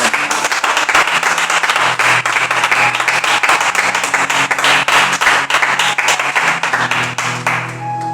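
A church congregation applauds steadily and loudly throughout, a dense wash of many hands clapping with a faint sustained tone underneath and no talking.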